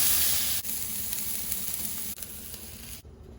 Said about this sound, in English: Char the asparagus.